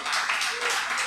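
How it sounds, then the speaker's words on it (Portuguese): A church congregation applauds during a service, a short burst of dense, even clapping from many hands. "Vamos aplaudir o Senhor."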